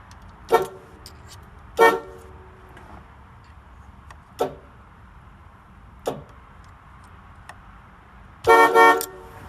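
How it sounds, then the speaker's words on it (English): Four-note GM Cadillac horns fitted to a 1979 Chevrolet Caprice honk in several short, loud bursts spaced a couple of seconds apart, ending with a longer multi-tone blast, over a low idling background with no talk. "But now I got 4 horns hooked up."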